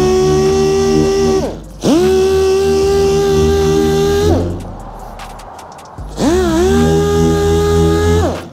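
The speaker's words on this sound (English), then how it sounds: "I got my DA. I got my 1500 grit, and we're gonna go ahead and hook that up and start hitting it." A dual-action orbital sander spins up on car paint with 1500-grit paper for nib sanding, a loud steady whine with rich harmonics running in long bursts, pitch sagging as it stops and rising again after a brief pause.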